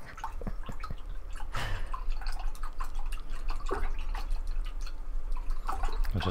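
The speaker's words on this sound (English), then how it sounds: "I just wash my brushes." Paint brushes are swished and rinsed in a container of water, with quick clinks and sloshes, scattered drips and light splashes close by, no voices.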